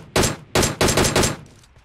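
Several loud, close bursts of automatic gunfire from a PUBG Mobile match on the Livik map, fired at a bot in about four quick volleys that trail off into a faint tail, with no talking.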